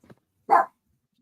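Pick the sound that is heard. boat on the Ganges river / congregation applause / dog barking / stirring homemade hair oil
dog barking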